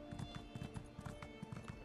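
Hooves of a horse in the video game Elder Scrolls Online clip-clop in a quick, even trotting rhythm, soft and fairly close against a faint ambient backdrop.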